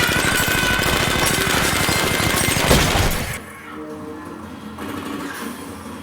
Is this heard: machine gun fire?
yes